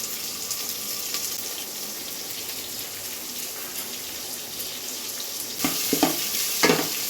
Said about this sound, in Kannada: ಇದು ಸ್ವಲ್ಪ ಕೆಂಪಿಗೆ ಬ್ರೌನ್ ಕಲರ್ ಆಗಬೇಕು ನಾವು ಹುರಿತಾ ಇರೋದು